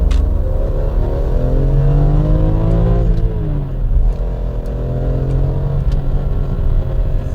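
A BMW fitted with the 3.2-liter naturally aspirated S54 B32 inline-six revs up, its pitch climbing and falling through loud, sustained runs close by with no talk.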